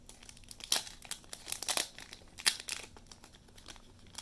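A foil trading card pack being opened by hand, with irregular crinkling and tearing bursts, some sharper rips, close and moderately quiet with no talking.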